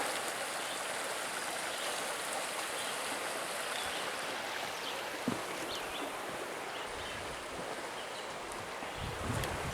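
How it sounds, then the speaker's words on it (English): The Neversink River in the Catskills rushes through the woods in a steady, broadband wash of moving water, continuous and moderately distant, with faint rustling and occasional small knocks nearby. "Pretty sure this is the Neversink River."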